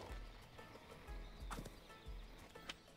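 Horse hooves clip-clop in an even, steady rhythm while a rider travels on horseback through Goat Simulator 3, with a short whinny partway through; the hoofbeats stay moderately quiet under a low background.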